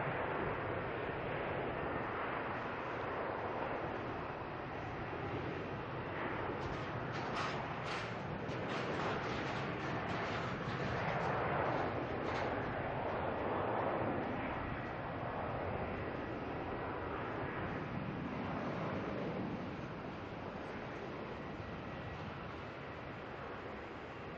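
A Jetstar airliner departing from Melbourne Airport for Sydney makes a distant, faint jet rush that builds through the middle and then slowly recedes, with no talking.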